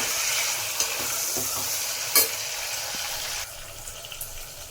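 Tomato with ginger and garlic paste frying in a pressure cooker for veg pulao gives a steady close sizzle, with a few stirring scrapes and knocks and the sizzle dropping in level near the end.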